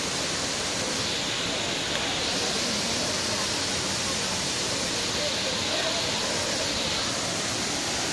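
The Five Falls waterfall at Courtallam roars as a loud, dense, unbroken rush of falling water that fills the whole scene steadily from start to finish.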